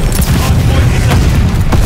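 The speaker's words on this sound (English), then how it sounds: "Friendly bombing run on the way" Bombing-run explosions in Call of Duty: Vanguard multiplayer roll together into a loud, close, continuous booming rumble, with scattered cracks through the blast.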